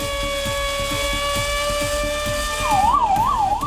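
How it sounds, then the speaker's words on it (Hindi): A loud siren sounds during a mock emergency drill, a steady tone that breaks into a rising and falling wail over a low, pulsing engine rumble. "एयर रेड सायरन बजने लगे।"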